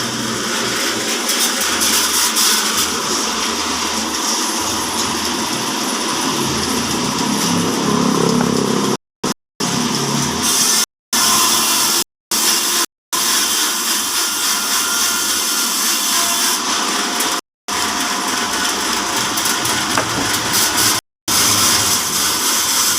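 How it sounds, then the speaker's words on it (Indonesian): A horizontal sawmill saw driven by a 5 HP dynamo engine runs and cuts wood with a continuous loud mechanical whine and hum, with several brief dropouts partway through. "Saya mulai lagi graji"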